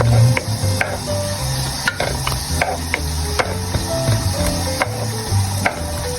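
Onion sautéing in a pan for chicken sotanghon soup, a close sizzle broken by repeated scraping and stirring clicks of a utensil against the pan, with no one speaking.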